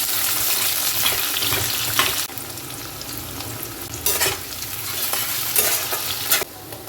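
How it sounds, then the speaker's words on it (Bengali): Soybean chunks and potato frying in a pan on a home kitchen stove, a steady close sizzle with occasional stirring scrapes and brief louder bursts throughout. "এটা হচ্ছে সয়াবিনের আলু ভাজাটা।"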